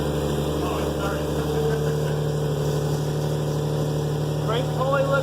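A Toyota 2JZ engine idles steadily right after starting, following a timing belt replacement, giving a constant loud drone with a tonal whine throughout.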